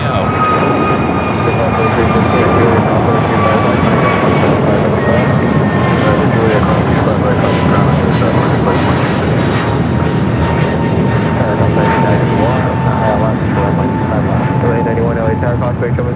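An Airbus A321neo on flight 2110 from Minneapolis roars loudly at LAX, a continuous powerful engine rush with whining tones that slowly fall in pitch, sustained throughout.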